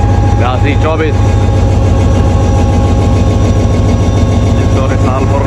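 A legendary railway locomotive, an HGMU diesel engine, idles in a steady, loud low rumble that runs continuously throughout, with busy station noise around it and brief voices near the start and end.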